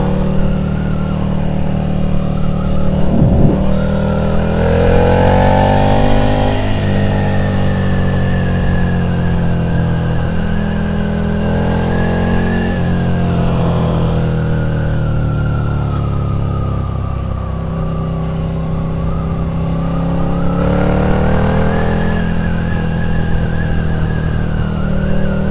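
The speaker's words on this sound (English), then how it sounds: "coasting along the coast on the Ducati Scrambler" Freshly serviced Ducati Scrambler motorcycle cruising along a coastal road, a loud, steady engine drone that swells and eases through gear changes, heard close from the rider's position amid wind rush, with no talk.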